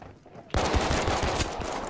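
A gun in Battlefield 5 opens up abruptly after a quiet moment, loud continuous automatic fire with rapid punchy shots filling the rest of the short stretch, no talk over it.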